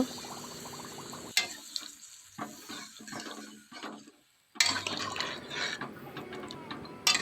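Hot water is poured into a pan of tilapia and potato curry, a sharp hiss as it hits the hot pan, then bubbling and pouring sounds that pause briefly and resume.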